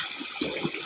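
Irrigation water pours into a maize field in a brief, steady gush, with a few soft splashy bumps over the constant flow.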